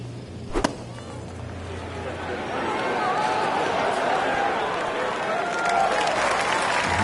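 A crowd in a golf video game bursts into applause and cheering after a brief click, swelling from quiet into a sustained roar that carries on to the end.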